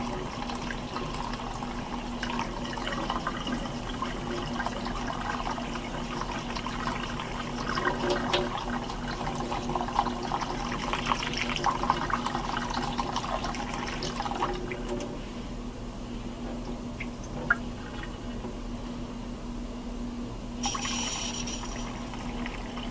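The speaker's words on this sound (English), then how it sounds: "Slowly turn the water on. Let it rinse all that away." Tap water runs and splashes into a pot of rice being rinsed, a soft continuous trickle with slight swells in flow and a brief change near the end, fairly quiet with no talking.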